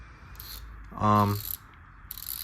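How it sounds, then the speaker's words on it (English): A brand-new Craftsman black chrome 180-tooth ratchet gives one short, loud burst of fine rapid clicking, close by and alone, with faint handling noise before and after. "here's your black chrome 180 tooth ratchet"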